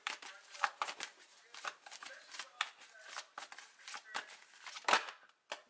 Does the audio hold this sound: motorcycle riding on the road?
no